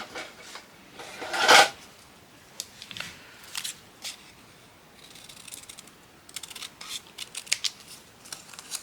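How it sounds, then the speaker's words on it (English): Scissors snip through a strip of concertina-folded paper to level its edge, giving a series of short, fairly quiet cuts and rustles spread unevenly, one sharper snip standing out near the start. "I'm going to cut it off so it's level because it wasn't very level."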